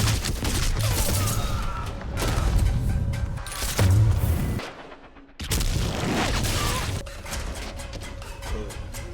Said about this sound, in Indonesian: The Ghoul pun terkena tembak beberapa kali